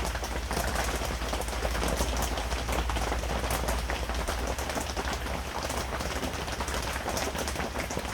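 Rain patters continuously on the canvas of a tent cabin below Yosemite Falls, close and constant, with occasional heavier drops and no talking.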